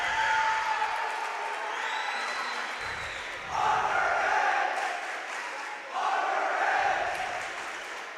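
Student cheer block at a JV/varsity high school volleyball game between Eastern Hancock and Monroe Central, chanting and cheering in loud, sustained waves that swell at intervals across the gym, with a commentator's voice over it.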